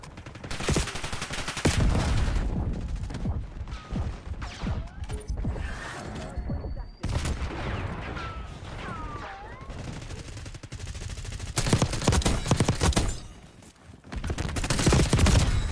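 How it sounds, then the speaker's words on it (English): Rapid bursts of XM4 rifle fire in Call of Duty Black Ops 6, with loud close volleys repeating across the whole stretch amid crashes and explosions, one quiet gap midway, and busy game effects between the bursts. "He just jump shot me with an XM4."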